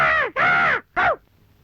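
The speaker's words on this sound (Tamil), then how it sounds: "இந்த காக்காய்க்கு வடை எடுத்து போடு." A crow caws three times in a Tamil film scene, two long harsh calls and a shorter third, loud and close with a brief gap between them and no talk.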